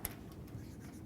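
A marker or chalk scratches across a lecture board during an algebra class, a faint, steady writing rub with a short sharp stroke at the start, alone and quiet.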